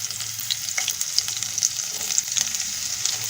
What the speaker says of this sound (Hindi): अब हम डालेंगे लहसुन इसमें।